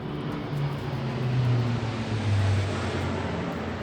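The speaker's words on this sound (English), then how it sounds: "It's a low-flying military jet." A low-flying military jet passes overhead just above the treetops, a broad, steady roar that fills the whole stretch and swells slightly in the middle.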